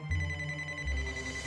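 A telephone rings with an electronic, tonal chime over a low hum, brief and moderately quiet.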